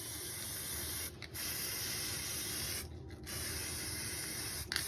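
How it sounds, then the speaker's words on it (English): An aerosol spray can hisses steadily and close up, with two brief breaks where the nozzle is released before spraying resumes. "now I came back and I'm going to spray the other side of these."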